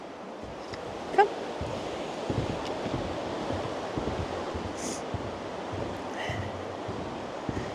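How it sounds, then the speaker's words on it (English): Rushing water of the Aare river in Switzerland's Bernese Oberland makes a steady, broad, fairly soft roar throughout, with no clear breaks. "And the Aare has a lot of water."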